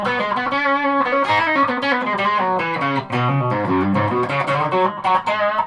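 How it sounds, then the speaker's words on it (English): Electric guitar played through a blues distortion pedal with a brand-new neck, sustained driven chords and riffs ringing loud and continuous, close and alone with no talking. "think that's maybe called blues distortion, actually"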